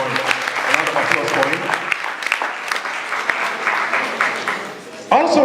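An audience at a WESCOS gathering applauds steadily to welcome a guest, with a voice talking over the clapping throughout.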